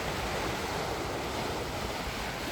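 Waves crash onto the shore at Repulse Bay beach in a continuous, loud roar of surf mixed with wind noise, close and steady with no voices.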